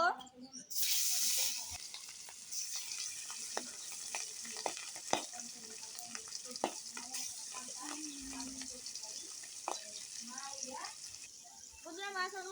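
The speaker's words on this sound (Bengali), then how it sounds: "আমাদের কড়াই গরম হয়ে গেছে এবার মাছ দিয়ে দিব" Pangas fish frying in hot oil in a wadded wok, a steady crackling sizzle running throughout with scattered pops and clinks of a spatula, loud from the start.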